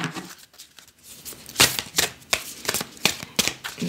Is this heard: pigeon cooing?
no